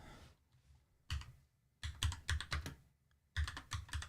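Someone types on a computer keyboard close up during a livestream, in quick bursts of clicking keys with short quiet pauses between them.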